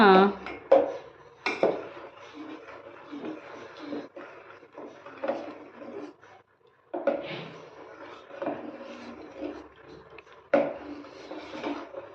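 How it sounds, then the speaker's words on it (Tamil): Tapioca (cassava) porridge stirred steadily in a pot, a spoon scraping and clinking against the metal in repeated strokes while someone talks over it. "கைவிடாமல் நம்ம கிண்டிகிட்டே இருக்கணும்"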